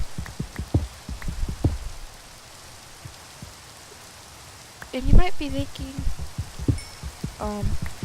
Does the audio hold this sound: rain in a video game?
yes